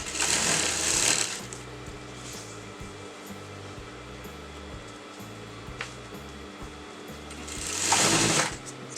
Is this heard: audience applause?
no